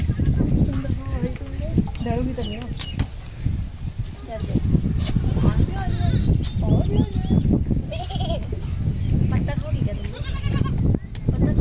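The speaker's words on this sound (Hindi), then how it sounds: "तीन बकरी हैं तीन बकरी के बच्चे कितने सुंदर हैं" Three goats and their kids bleat repeatedly in short wavering calls close by, under frequent talking voices and some outdoor rustling.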